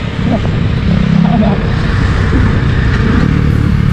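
Motorcycles, including KTM bikes, rumble together on an Independence Day group ride in Bangalore, a loud continuous engine drone with occasional revving, heard close up from among the riders.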